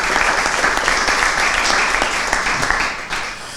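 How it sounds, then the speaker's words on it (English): An audience at a political candidates' event applauds a candidate, a loud dense burst of clapping that holds steady and then fades toward the end. "Let's give a warm round of applause to Matthew Von Stein."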